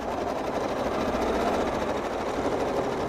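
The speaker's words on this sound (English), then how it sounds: "Just go until I run into the seam, reposition my ruler, quilt along that curve." A sewing machine stitches steadily as it quilts along a ruler, following squiggly and serpentine lines. The motor drones continuously and evenly at close range, with no talking.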